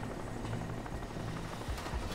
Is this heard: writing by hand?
no